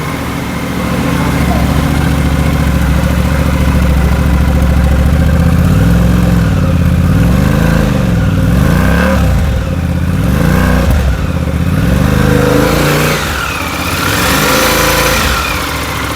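A new Suzuki V-Strom 800DE motorcycle engine idles with a loud, steady exhaust rumble, then revs up and down several times before settling back to idle.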